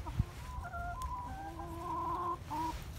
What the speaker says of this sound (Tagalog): Ingay na mga manok na to.